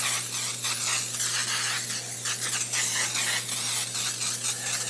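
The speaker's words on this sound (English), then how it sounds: "So, we're gonna spray with Baker's Joy because it has flour in it." A steady, soft hiss of flour-containing baking spray from an aerosol can coating a cake pan runs continuously over a faint low hum.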